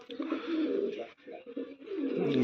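An imported Teddy pigeon brought from Oman coos continuously up close, its deep rolling calls swelling and pausing in a steady rhythm with no talking.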